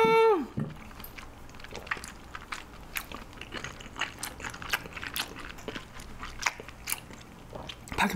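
Someone eating black bean noodles topped with a fried egg, with close, repeated soft bites and wet chewing crunches in an uneven rhythm, steady and fairly quiet throughout.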